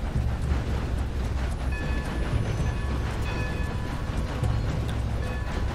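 Steam train running in Red Dead Redemption 2, a loud, continuous rumbling chug with rhythmic clattering and thin tonal ringing layered above, steady throughout.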